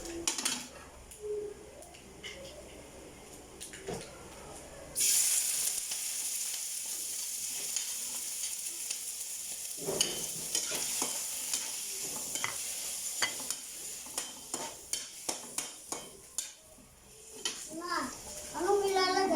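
Chicken liver fries with garlic in a pan, giving a steady sizzle broken by repeated scraping and clinking stirs, while children's voices chatter and play nearby.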